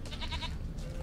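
Sheep bleating in the video game The Witcher 3, a couple of short wavering bleats close by over a low ambient game background.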